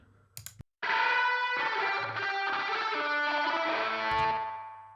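Punk rock electric guitars, dry and untreated in the mix, play as a loud, sustained distorted wall after a brief clipped strum and a short gap, holding steady for several seconds before fading slightly at the end.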